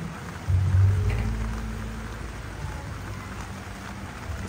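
Steady rain falling outdoors on potted succulent plants, a soft continuous hiss with a fuller surge early on, then an even wash of drops with no talking.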